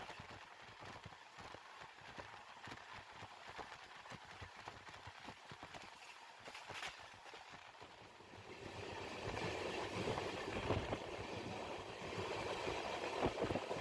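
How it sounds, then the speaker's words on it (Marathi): Jeur to Solapur intercity train running at speed, a steady rumbling clatter of wheels on rails heard from inside, growing louder and denser toward the end, with no talk. "आपली गाडी साठ किलोमीटर प्रति तास इतक्या वेगाने धावत आहे"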